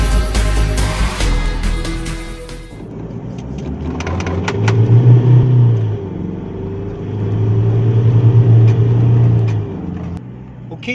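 Isuzu MU-X 3.0 SUV out on a drive, engine rumbling and rising twice in accelerating surges, heard from inside the cabin after a burst of louder noise at the start.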